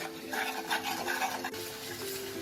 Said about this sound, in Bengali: দিয়ে আমি মশলাটাকে একটু কষিয়ে নেব